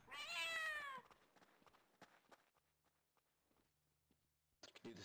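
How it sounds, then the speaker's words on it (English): House cat near the microphone giving one loud, drawn-out meow, followed by scattered soft thumps and shuffling as it moves about, with faint background noise in between. "my cat was jerking around"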